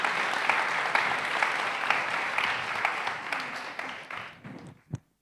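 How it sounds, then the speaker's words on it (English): A conference audience gives sustained applause to the panel members, the clapping steady at first and then thinning out and fading, with a last few claps near the end. "But please, a warm round of applause for all our members of the panel."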